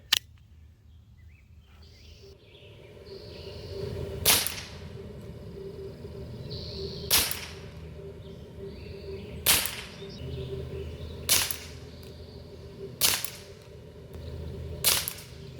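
A Glock 17 Gen 5 CO2 blowback pellet pistol in .177 fires six sharp, snappy shots at fairly regular intervals over a low background hum, each crack short and close.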